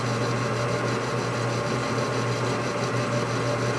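An aluminum part turning on a lathe during an Evo Harley S&S big-bore engine rebuild, giving a steady, continuous machine whir with a constant low hum and no pauses throughout.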